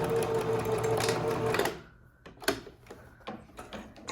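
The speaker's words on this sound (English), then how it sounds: "Just a quick little back stitch." A sewing machine back-stitches the corner of a tote bag, running in a rapid steady close whir for about a second and a half before stopping, followed by a few faint clicks and handling taps.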